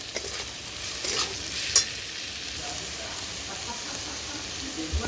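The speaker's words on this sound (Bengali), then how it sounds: "একেও আমি ভালোভাবে ভেজে নেব।" Small fish frying with salt and turmeric, a steady soft sizzle with occasional light stirring clinks and pops, close and low in level with no voices.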